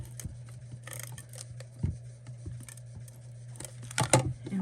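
Scissors snip around a small paper frog cut from patterned card, a series of light, close crisp cuts and rustles over a low steady hum.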